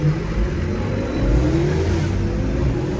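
Car engines roar and rev continuously, a rising whine sweeping upward as vehicles accelerate nearby, loud and steady throughout.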